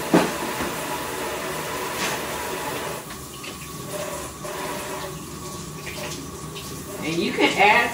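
Tap water runs steadily over a raw chuck roast in a kitchen sink, a close, continuous splashing hiss that swells louder near the end, with a voice faintly present in the background.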